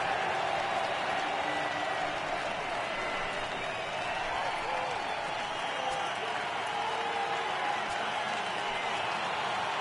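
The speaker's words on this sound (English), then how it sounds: "Crowd gets up for the 3-2." A stadium crowd rumbles and cheers in a PS4 baseball game as a 3-2 count comes up, a steady broad roar throughout with a commentator talking over it.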